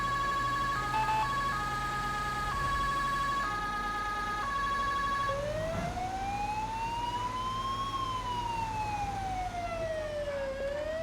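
A German two-tone emergency siren in GTA 5 alternates high and low notes, then changes into a long rising and falling wail, loud and continuous over a low rumble.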